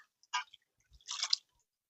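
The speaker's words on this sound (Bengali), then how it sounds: "এবার আমি জল দিয়ে ধুয়ে নেব" Two short splashes as a face is rinsed with water from a basin after a neem face wash, with a faint thud between them. Close, quiet and wet, with no speech.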